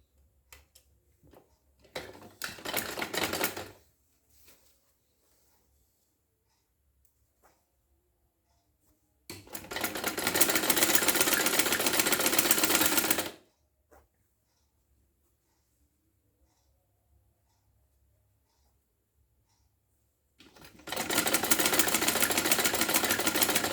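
A sewing machine stitches sleeve fabric with a central lace in three sustained bursts of rapid mechanical whirring, each cleanly separated by near-silent pauses.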